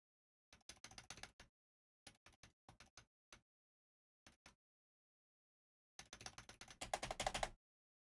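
Keys tapped on a computer keyboard in short separated bursts of quick clicks, ending in a longer rapid flurry of typing, close and fairly quiet, with no talking.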